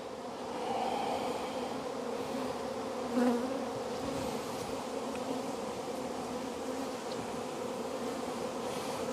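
Honey bees buzz in a steady, close drone from an open hive being split for swarm control, a continuous hum with a brief louder swell partway through and no voices.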